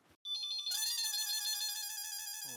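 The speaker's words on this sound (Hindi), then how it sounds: "ये मक्खी जानी जी का ही फोन होगा।" A telephone rings with a loud, steady electronic ringtone melody in a household scene from a TV sitcom, playing alone and close for a couple of seconds.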